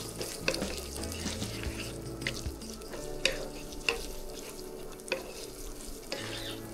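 Yellow, red and green capsicum stir-fried over high heat, a continuous close sizzle with rhythmic spatula scrapes and clacks against the pan, no talk.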